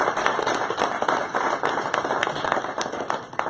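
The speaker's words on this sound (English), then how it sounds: "Let's give a round of applause just for that." Applause from an audience at a talk on design opportunities for students, a dense steady patter of many hands clapping throughout, fairly loud and continuous with no voices over it.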